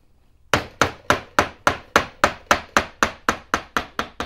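A groove being hand-cut into wood: about fourteen sharp, evenly spaced knocks, roughly three per second, each ringing briefly. They start after a half-second of near silence, close and fairly loud, with no talking.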